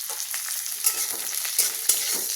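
Cashews, raisins and pistachios frying in a pan, giving a constant close sizzle dotted with sharp crackles and pops, loudest in a few quick bursts, with no one speaking.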